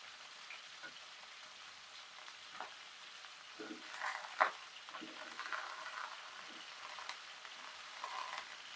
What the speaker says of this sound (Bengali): এই যে ভেজে নিচ্ছি সব জিনিস।